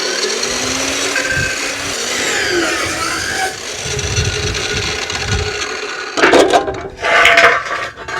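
A power saw cuts metal pieces at 45-degree angles for welding, giving a loud continuous grinding whine with shifting pitch. Two sharper bursts of cutting come near the end.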